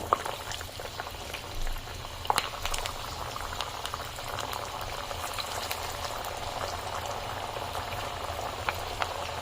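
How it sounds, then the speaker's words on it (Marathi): Dal vadas made with no flour sizzling steadily in hot oil on a medium flame, a dense continuous bubbling and crackle that runs unbroken for several seconds, close and fairly loud with no voices. "आता वडे आपण तेलात सोडू."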